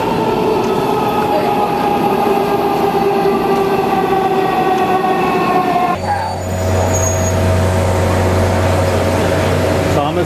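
A metro train rolls along steadily with loud, continuous rumble and tonal wheel and motor whine, the pitch shifting partway as it rides on, with no clear talk over it.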